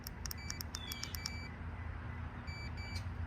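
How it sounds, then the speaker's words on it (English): Quick high-pitched electronic beeps from a VMAX VX2 electric scooter chirp in a rapid burst as boost mode engages, then two more short beeps follow after a pause, faint against a low hum. "you hear that little beep beep? That means you're now in the boost mode"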